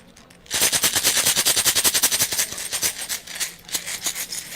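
A bottle shaken hard to mix its contents, a loud, fast, even rattle that starts abruptly and keeps going for about four seconds.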